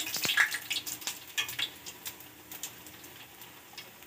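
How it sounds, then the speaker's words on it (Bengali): Beguni, battered eggplant slices, deep-frying in oil, a fairly quiet crackle with scattered pops and ticks that is busier at first and thins out over the next few seconds. "এই করে প্রত্যেকটা বেগুনি এইভাবে ভেজে নেওয়া হবে"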